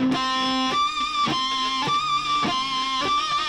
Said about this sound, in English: Here's the tapped harmonic.